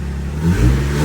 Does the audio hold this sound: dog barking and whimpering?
no